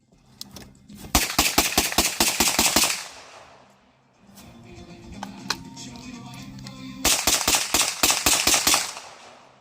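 A Marlin Model 9 camp carbine fires in two rapid strings of sharp, loud shots outdoors, separated by a quieter stretch of rustling and a single report.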